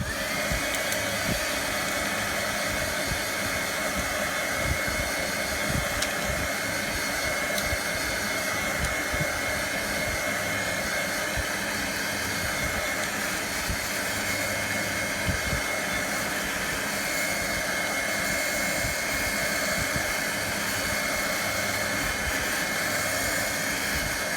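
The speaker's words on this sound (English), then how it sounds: "if you don't want to hear the blow dryer going or the heat gun, you need to mute it right now because I'm going for it" A hair dryer or heat gun roars continuously over watercolor paint on craft tags, a loud, steady close rushing blast with a broad airy hiss that holds unchanged for over twenty seconds.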